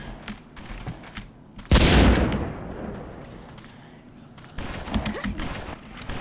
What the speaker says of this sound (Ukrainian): Ось тут стріляють цими ракетницями бісовими.